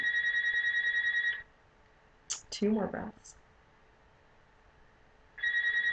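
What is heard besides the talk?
mobile phone ringing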